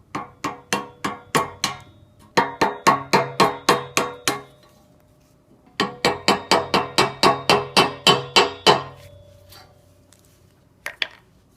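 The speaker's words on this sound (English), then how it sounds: "I'll just keep chiseling away." Rapid metallic hammer-and-chisel strikes chip at a rusted exhaust pipe flange on a Toyota Matrix/Corolla (1ZZFE), coming in two long bursts of sharp, evenly spaced blows with a short pause between them and a lone final hit, with no talking.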